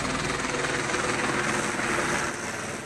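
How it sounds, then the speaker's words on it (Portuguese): Helicopter landing on a football pitch, a loud continuous rotor and engine roar with dense broadband wash that eases slightly near the end. "Essas imagens exclusivas revelam o momento em que um helicóptero pousa no gramado."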